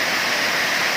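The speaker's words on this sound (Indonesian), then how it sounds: "saat ini saya lagi berada di air terjun" The Serintik Hujan Paneh waterfall in Talang Paruh village, Lembah Masurai, Merangin, pours in a steady, dense roar of falling water, close and continuous with no voices.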